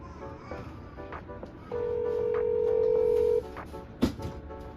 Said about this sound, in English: So I decided to give them a phone call.